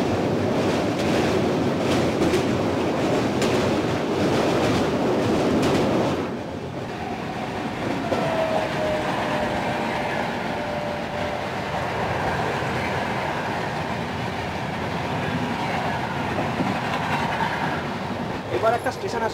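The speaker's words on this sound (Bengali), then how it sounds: "এই মুহূর্তে আমাদের ট্রেন এসে পৌঁছালো অসমের কোকরাঝড়ে" Dibrugarh–New Delhi Rajdhani Express (20505) pulling into Kokrajhar station in Assam: loud steady rolling rumble and rush for several seconds, then a quieter hiss and low rumble with a faint brief tone as the train slows.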